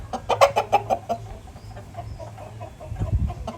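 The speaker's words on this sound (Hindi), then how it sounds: "वियतनाम मादी है जी, ये वियतनाम गनोई मादी है जी ये।" A Vietnamese Aseel hen clucks in a quick series of short, close calls, followed by quieter rustling and a low thump near the end.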